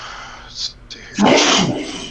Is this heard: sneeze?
yes